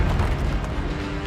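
A fire spell cast in the Hogwarts Legacy video game gives a dense, roaring burst that fills the whole short moment, loud and rumbling with a crackling, whooshing texture and no talk.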